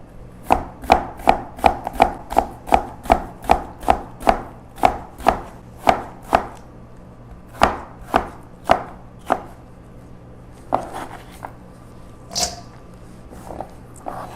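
A knife chops radish into fine julienne strips on a cutting board for a Korean radish salad, with quick, evenly spaced close taps that slow and thin out, leaving a few scattered knocks at the end.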